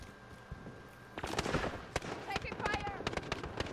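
Rapid bursts of automatic gunfire and sharp single shots in the video game Call of Duty Warzone, dense and loud crackling volleys after a quieter start, with a player's voice talking briefly.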